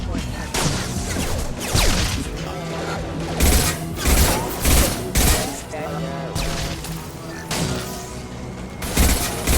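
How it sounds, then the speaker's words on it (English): Heavy gunfire from the video game Mass Effect 2 comes as repeated dense bursts of close, loud shots and impacts in uneven clusters, with brief lulls between volleys. "Heavy fire!"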